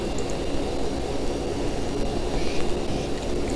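Steady broadband roar of a Dassault Falcon 7X business jet's engines during takeoff in Flight Simulator X, a continuous loud rushing hiss with no break and no voices over it.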